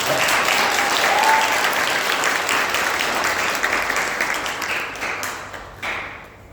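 A church congregation claps in sustained applause during a certificate presentation at a Sunday worship service, dense and steady throughout and thinning slightly toward the end.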